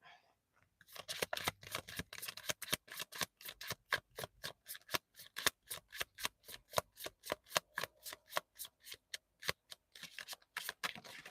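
A romance oracle card deck being shuffled by hand: about thirty quick, crisp flicking riffles in a fairly steady rhythm, close and quiet, with no talking.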